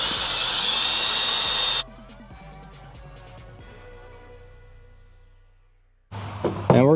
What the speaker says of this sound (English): We're going to take our drill and drill bit.